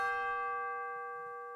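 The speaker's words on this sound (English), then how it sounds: "And finally, I added the tubular bells." Tubular bells from an orchestral percussion sample library ring out in a single clear, shimmering strike whose bright overtones decay slowly and smoothly across the whole moment.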